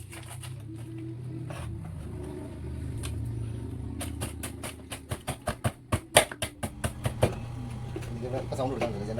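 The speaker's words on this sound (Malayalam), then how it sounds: "സൗണ്ട് കൊടുക്കാൻ ജനറേറ്ററിൻ്റെ ഇതാണ്." A generator runs with a steady low droning hum throughout, overlaid by a burst of sharp rhythmic tapping partway through while someone talks.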